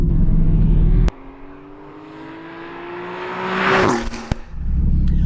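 A Porsche 991.2 Carrera S with a Stage 2 engine tune and exhaust cuts off sharply, then the engine revs up in one long rising sweep before a loud peak, a sudden drop and a return to a rumbling idle.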